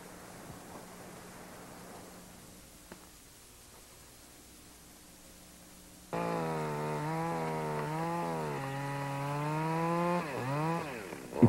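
A chainsaw during forest thinning of poor-quality trees: a faint distant buzz first, then the saw loudly revs up near the midpoint and holds a steady whine with pitch swings as it cuts.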